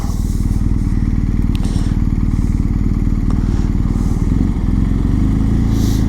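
A BMW R1250GS Adventure motorcycle rides through heavy traffic, its boxer engine droning loud and steady with constant wind and road roar and a few faint clicks on top.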